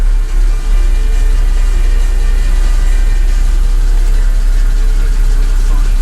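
A BMW E60 engine idles steadily after new valvetronic motor, oil filter housing and oil cooler gaskets were fitted, giving a close, even, unbroken hum with no talking.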